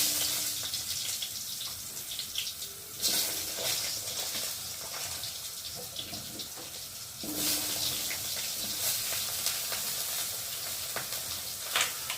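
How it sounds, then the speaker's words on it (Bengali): Sliced eggplant fries in hot oil in a pan, a soft steady sizzle with faint stirring and scraping, fairly quiet and close, with no talking. "এখন ওই তেলের মধ্যে আমি দিয়ে দেবো কেটে রাখা বেগুনগুলো, ফার্স্টে ভালো করে ভেজে নেব।"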